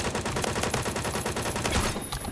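Rapid automatic battle rifle fire in the online shooter Phantom Forces, a dense, loud stream of closely spaced shots running continuously before cutting off near the end.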